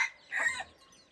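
A young rooster of a fighting-cock breed, about seven to eight months old, gives a short cluck or two close by, a brief throaty call standing alone with no talk.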